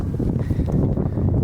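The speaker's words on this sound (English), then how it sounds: "It's so windy, and I'm trying to cover the mic" Steady wind gusting across an evening beach buffets the microphone, a dense low roaring rumble that fills the whole moment with no pauses and no voices.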